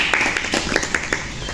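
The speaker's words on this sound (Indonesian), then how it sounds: "Oke, tepuk tangan untuk kita semuanya." A group claps in a small indoor group counselling session, with quick, fairly even hand claps that are moderately close and blend into a steady wash of applause. A voice can be heard faintly beneath it.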